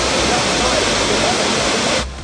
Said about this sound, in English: The waterfalls, gorging downwards, is a great sight to behold.